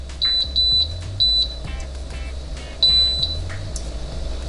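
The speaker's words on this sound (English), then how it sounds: "Sorry about the beeping there." Repeated high electronic beeps from an Emeril Lagasse pressure air fryer, several short tones in an uneven pattern, close by over a low steady hum.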